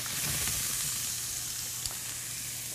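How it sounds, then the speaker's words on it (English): Food fries in hot oil with a steady, loud sizzle and hiss throughout, close up and uninterrupted, with a faint stirring tap near the end. "And then you start sizzling."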